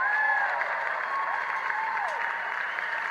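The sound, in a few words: applause from audience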